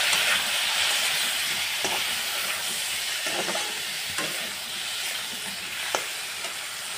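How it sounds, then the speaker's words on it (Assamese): Tomatoes fry in a pan with cumin and turmeric for a fish curry, making a continuous, moderate sizzle broken by occasional scraping clicks as the mixture is stirred. "অলপ ভাজি ল'ম।"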